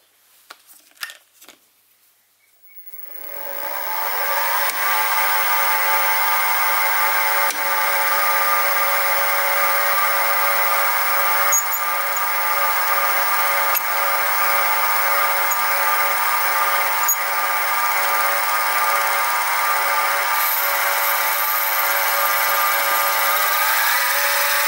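A machine drill with a 2.6mm bit bores through a metal bracket for a Stuart 10V reverse gear mechanism, a steady whining hum that holds for about twenty seconds after a few clinks of setup.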